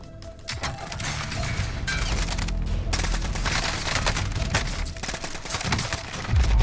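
Sustained bursts of video-game gunfire rattle steadily, loud and close, with a few heavier impacts near the end and no talking over it.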